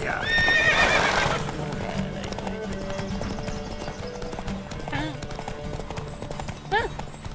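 In The Witcher 3, a horse gallops with a quick clip-clop of hooves and lets out a loud whinny near the start. Game ambience runs underneath, and brief calls cut in later.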